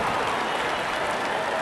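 A stadium crowd in the RealCricket video game cheers and applauds continuously, a dense, loud roar at even volume throughout the brief moment.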